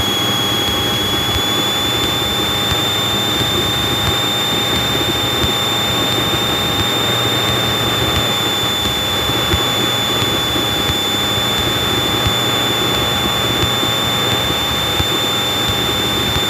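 A Cessna 185 light airplane on landing approach with a light crosswind: a steady, loud engine drone and propeller hum fill the whole stretch, with a high whine fading slightly partway through, and no voices.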